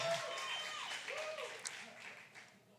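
Clapping and excited whooping cheers from a worship audience greeting a guest minister, close and lively, tapering off toward the end.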